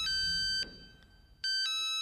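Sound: old mobile phone ringtone melody

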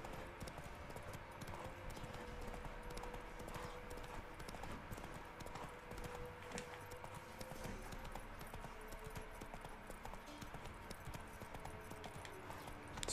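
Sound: horse hooves while riding in video game The Witcher 3

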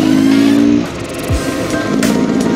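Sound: Beta X Trainer 300 two-stroke motorcycle riding

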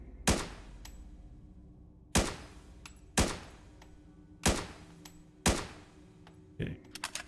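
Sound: gunfire in semi-automatic fire mode, video game

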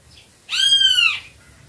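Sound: great kiskadee (Bem-te-vi) calling

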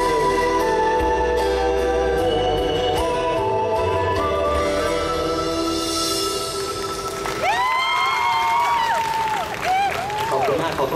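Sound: audience applause at a youth Thai country song contest

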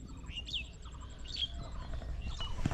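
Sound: bird flying off over farmland

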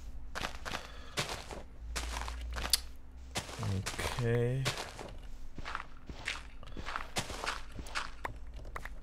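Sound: player's own footsteps in a video game (Minecraft)

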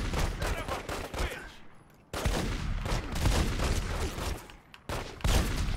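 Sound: gunfire from the video game The Godfather

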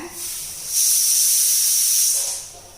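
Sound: pressure cooker whistling and hissing steam while cooking rice and dal

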